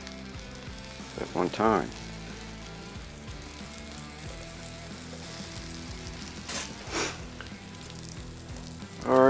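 Country ham on rolls sizzles on a griddle with a steady, close frying hiss, with brief bursts of someone talking and a few clicking, ratcheting handling noises.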